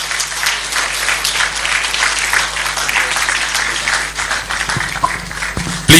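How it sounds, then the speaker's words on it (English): Sustained applause from an audience at a national spokespersons summit, steady and dense throughout, tapering slightly near the end with a few distinct claps. "Please do give him another round of applause."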